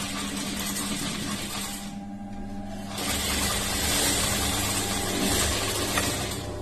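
A sewing machine stitching a blouse lining, running in a rapid steady whir with a short pause midway, then resuming louder, close by with no talk.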